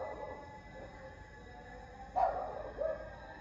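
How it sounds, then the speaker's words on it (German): A stray dog barks outdoors in the evening in Alanya: two short, fairly distant barks heard over steady background hum and traffic noise. "Bellen tut er aber ordentlich."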